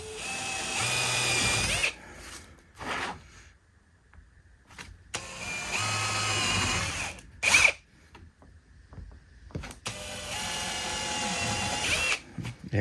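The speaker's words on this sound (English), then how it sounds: "now I'm going to take my drill with a 32nd inch drill bit and drill the holes through the plastic." A cordless-style power drill with a 1/32 inch bit bores holes through plastic for an electronics control box, three close, loud whining runs of a second or two each, separated by quieter pauses with small handling clicks and no talk.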